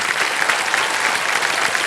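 A studio audience on the KBC game show breaks into dense, steady applause, continuous clapping at a consistent level filling the short stretch.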